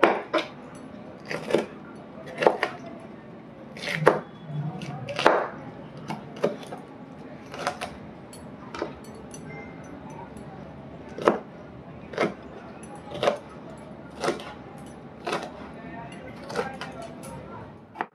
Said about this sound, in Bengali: এবার ক্যাপসিকাম কাটবো, একই রকম করেই কাটতে হবে।